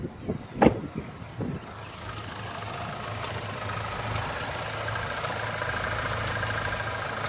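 A 2012 Buick Regal GS turbocharged engine idling, a steady smooth low hum after a few brief thumps at the start, heard close and even with no talking.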